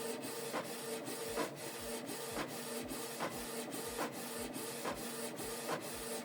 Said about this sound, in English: So now the document is copying.